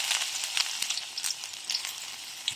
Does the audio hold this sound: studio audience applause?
no